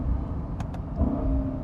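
A Lexus IS 500 F Sport with a 472-horsepower naturally aspirated engine blips its revs on a downshift, a short rising engine swell over steady road and cabin rumble.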